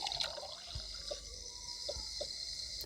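Water runs from a kitchen tap in the Toca Life Mia game, a faint, thin trickle with a few soft, separate drips spread across the stretch.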